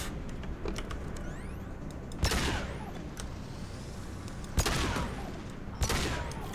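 Gunfire in Mass Effect 2: three sharp shots, spaced a couple of seconds apart, ring out over a steady background of game ambience and mechanical noise.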